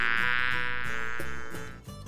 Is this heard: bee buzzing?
yes